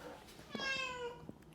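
Stella, a pet cat, gives one long, loud complaining meow close by, with brief soft sounds before and after it.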